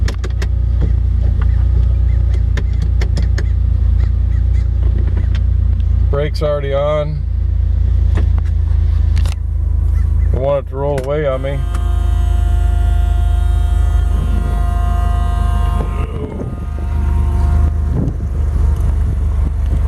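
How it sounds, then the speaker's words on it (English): A 1978 Porsche 911SC 3.0 Targa idles loudly and steadily up close, its deep engine drone running throughout while someone talks over it and a few mechanical clicks and whirs sound in the middle. "We're gonna hop out and let you hear it run here."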